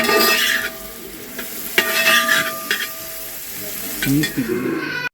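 Chopped onions sizzle in an uruli set on a wood-fired stove, with a steady frying hiss broken by the scrape and clink of a spoon stirring against the metal pan, heard close up.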